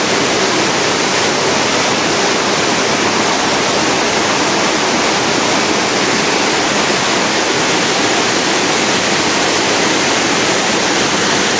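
A rain-swollen whitewater river rushes at a confluence, water running high over covered boulders, making a loud, constant broadband roar with no breaks and no voices.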